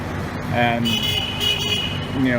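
Busy street traffic in a Chinese neighborhood, with motorbike taxis honking in short repeated toots over a steady roadway rumble, close and fairly loud.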